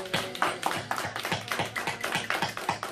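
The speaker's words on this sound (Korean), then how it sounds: "우리 박수로 하나님께 영광 올려드리겠습니다." At an early-morning church prayer service, a congregation claps in unison to glorify God, a steady rhythmic run of close, crisp claps at about four per second with no talking.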